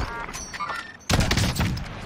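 Gunfire in the Warzone battle royale game cracks out in a dense, loud rapid burst after a second of quieter game noise, sounding close and sustained.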